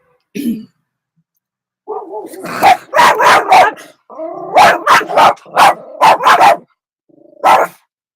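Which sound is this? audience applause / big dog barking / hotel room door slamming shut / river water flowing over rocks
big dog barking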